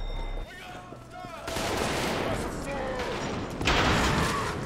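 Shotgun fire in the first-person shooter Trepang 2: loud booming shots and rapid gunfire with explosive thuds over a dense, continuous battle din, with someone talking over the action.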